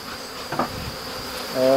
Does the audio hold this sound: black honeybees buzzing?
yes